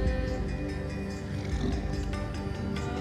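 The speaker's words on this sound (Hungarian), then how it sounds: "Ha, ott van egy fura tigris." A tiger roars in Far Cry 4, a steady low growling rumble running through the whole stretch over a dense, continuous game soundscape.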